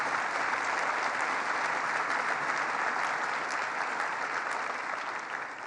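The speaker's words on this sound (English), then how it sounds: "So let's give him a round of applause." Sustained audience applause at a cancer research announcement at Roswell in Buffalo, a dense, steady wash of many hands clapping at close range that fills the whole span and eases slightly at the end.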